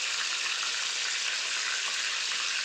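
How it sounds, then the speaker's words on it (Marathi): Soya chunks deep frying in hot oil over a medium flame, a soft, even hiss of bubbling oil that stays steady and fairly quiet throughout. "बघताय फ्रेंड्स, आपले सोया चंक्स मस्तपैकी डीप फ्राय होत आहेत."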